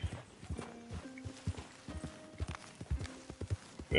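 A horse in Red Dead Redemption 2 clip-clops along in a steady walking rhythm of hoof strikes, moderately close, with a brief whinny-like tone among the steps and no talking.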